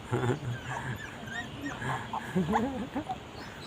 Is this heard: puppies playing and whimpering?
yes